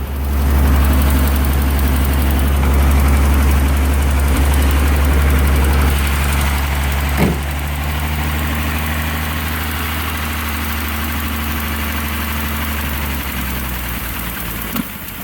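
A 1927 Pierce Arrow 80 Series coupe engine idles while warming up, a loud, deep, steady rumble close by with one brief knock partway through before settling slightly quieter.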